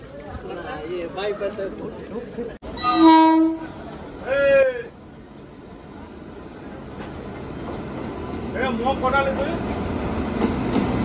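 The Saraighat Express pulls into New Farakka Junction with two loud horn blasts and a growing rumble of wheels, while people talk nearby.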